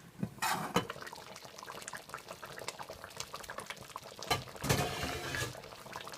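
A pot of Jamaican oxtail stew simmers after about an hour and a half of cooking, bubbling and popping busily at close range, with a few louder liquid bursts and no voices over it.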